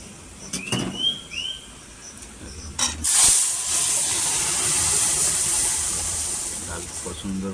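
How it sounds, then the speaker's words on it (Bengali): Dried red chillies and mustard seeds hit hot oil as a tempering for sour dal, bursting into a loud, steady hiss and crackle that runs continuously after a few quieter clatters, with no talk over it. "দেখুন শুকনো লঙ্কা সর্ষে ফোড়ন দেবে"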